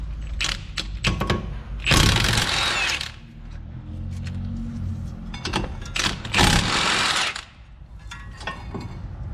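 An impact wrench works brake bolts loose on a 2016 Jeep Renegade during a front brake job, firing in short rattling bursts with a couple of longer runs between quieter workshop pauses.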